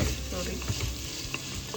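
Tomatoes sizzle and fry in hot biryani masala inside a pressure cooker, a steady soft crackle with occasional clinks of stirring, and a voice briefly speaks.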